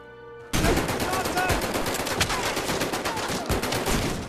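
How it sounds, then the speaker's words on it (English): Gunfire from World War II weapons such as the M1 Garand, Kar 98 and MG42 in a VR shooter game, a dense, sustained barrage of rapid shots that starts abruptly and keeps up loud throughout. "Just to name some of the classics like the M1 Garand, the Kar 98, or Hitler's Buzzsaw, the MG42, some lesser known weapons also are available."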